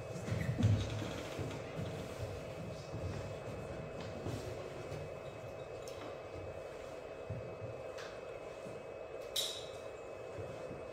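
Sound effect of a train arriving at a station in a radio play: a steady low rumble and rolling wagon noise, louder at the start, then a continuous mid-level hum with a faint high squeal near the end; no talking.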